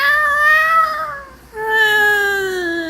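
A human voice imitates a cat's meow, two drawn-out, slightly falling meows separated by a brief pause, close and clear.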